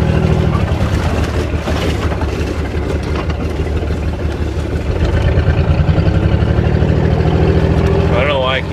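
A Chevrolet S10 pickup truck with failed brakes drives around a cornfield, its engine droning steadily and loudly throughout with rough mechanical rumble.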